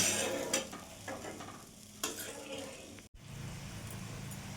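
Bata fish curry cooking over a raised gas flame after water is added, a soft steady bubbling sizzle with a couple of spoon clinks against the pan.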